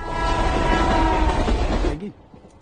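A train travelling on a railway, a steady loud rumble with rolling clatter that drops away sharply near the end, leaving quieter noise.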